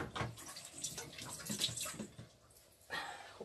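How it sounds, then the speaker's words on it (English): Hands are rinsed under a running kitchen tap while fermented apple chutney is being made with lemon juice. The water splashes unevenly and close by in bursts, easing off briefly near the end before surging again. "Okay, I rinse my hand."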